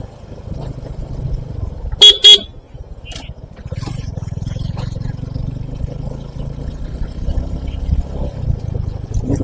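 Two short, loud car horn honks sound close by in quick succession over a steady low rumble of engines and traffic noise, heard from a Suzuki V-Strom SX 250 motorcycle riding on the road.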